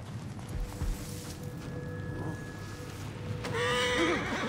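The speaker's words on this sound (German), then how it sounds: "Ah, Pferde, leise. Ihr verratet mich noch." Horses in the Assassin's Creed Origins game whinny loudly near the end, a rising, wavering neigh over a steady ambient bed with faint creaking and hoof clops earlier.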